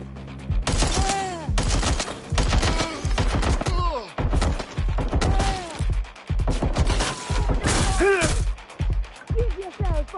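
Repeated bursts of gunfire from a suspect in a police video game, loud, close volleys of rapid shots in several clusters, with game effects and radio-style voices mixed in.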